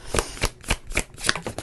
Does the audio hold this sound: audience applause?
no